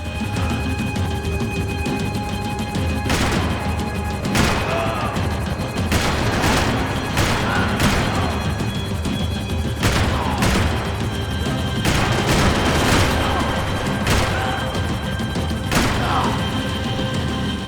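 Steady gunfire in Max Payne 3, sharp cracks and bursts repeating irregularly over a constant rumble of action noise and music, loud throughout with no clear speech.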